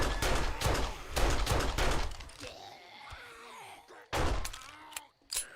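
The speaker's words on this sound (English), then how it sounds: "I'm gonna use my pistol first." Pistol shots fired at feral zombies in 7 Days to Die, a quick run of sharp loud cracks at the start, then groaning undead sounds, with another burst of shots near the end.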